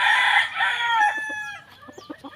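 A Gilmore gamefowl broodstag rooster on a game farm lets out one close, loud crow that holds and then trails off, followed by a few soft clucks and faint scratches.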